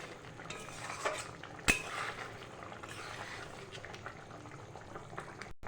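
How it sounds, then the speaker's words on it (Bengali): Egg curry with a thin gravy simmers in a pot, a quiet continuous bubbling broken by a couple of light clinks of a utensil against the pot. "আর কিছুক্ষণ আমি ফুটিয়ে নেব।"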